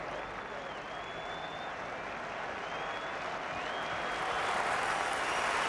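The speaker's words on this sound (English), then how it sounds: "He's getting a terrific ovation by his home crowd" Home crowd at Old Trafford applauding a batsman during a 1995 England vs West Indies Test, steady sustained clapping with crowd noise that swells slightly toward the end.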